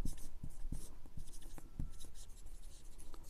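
Pen scratching across paper while working out a Class 7 math problem, quiet close strokes in short bursts with a faint low background hum.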